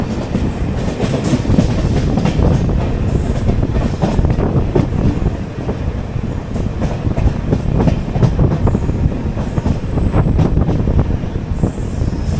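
The Garib Rath Express rolls into Chengannur station with loud, continuous rumbling from inside the train, rhythmic wheel clatter and occasional squeals as it slows.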